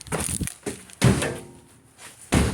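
An ambulance's rear door is handled and shut, giving a few loud thunks and slams spaced across the stretch with quieter rustling between them and no talk.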